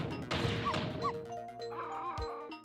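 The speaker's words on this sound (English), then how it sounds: "What exactly are you barking at anyway?" A small cartoon dog yips and barks a couple of times in Ghost Trick: Phantom Detective, short game sound effects over a layered backdrop of music and clatter.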